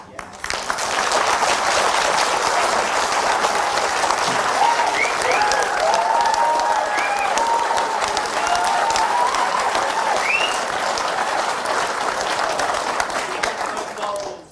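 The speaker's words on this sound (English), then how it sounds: "Lots of applause there for the Prime Minister" Sustained audience applause fills a live MP candidates hustings event, dense and steady for the whole stretch, with faint whistles or voices rising above the clapping.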